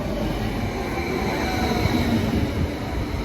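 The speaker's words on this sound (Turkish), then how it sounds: "Evet trenim geldi şimdi." A train arrives at a station in Germany, its steady rumble of wheels and carriages filling the platform loudly and continuously with a faint metallic whine on top.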